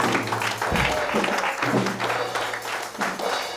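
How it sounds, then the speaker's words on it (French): A church congregation applauds and cheers the Lord, with sustained loud clapping from a crowd and a low hum of voices underneath. "Est-ce qu'on peut acclamer très fort le Seigneur?"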